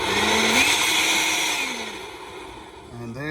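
Ryobi 18V ONE+ small battery blower at full speed setting 3, a loud whooshing motor whine that ramps up in pitch, holds, then eases off before a brief voice at the end.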